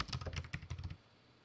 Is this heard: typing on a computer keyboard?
yes